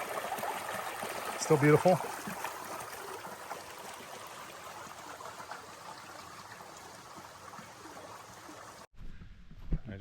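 A New Hampshire creek on the Appalachian Trail runs low in a dry spell, giving a steady, soft trickling rush that continues throughout, with a voice speaking briefly over it early on before a sudden cut near the end.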